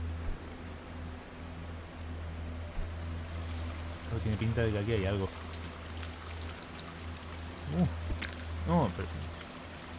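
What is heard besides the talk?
waterfall water in video game Barn Finders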